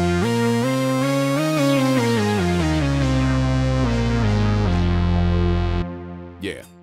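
Stacked, linked drum pads triggered in Maschine, producing dense layered tonal hits that shift in pitch across a short sustained phrase, loud and close, then cutting off into a brief trailing sound.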